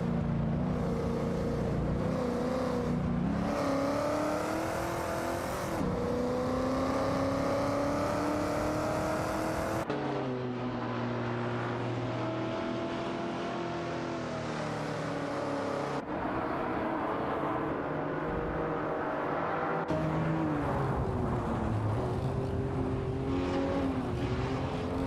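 Race car engines in a racing video game drone loudly without pause, layered whining tones shifting pitch with abrupt jumps between camera views, no one speaking.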